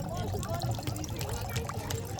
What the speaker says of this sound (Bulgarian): Свежа алпийска вода от тая чешмичка.